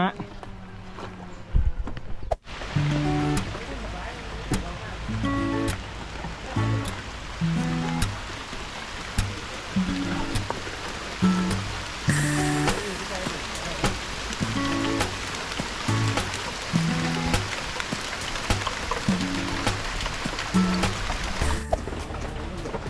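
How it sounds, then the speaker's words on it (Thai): Rain falling outdoors on water during a fishing trip by boat, a steady hiss of drops under repeated rhythmic thumps and knocks, with talk over it. "ฝนมาแล้วฮะ"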